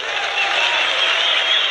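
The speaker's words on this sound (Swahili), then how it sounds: "Makofi kwa mheshimiwa" Applause for an honourable speaker at a Safina party delegate convention, a dense steady burst of crowd clapping filling the room without pause.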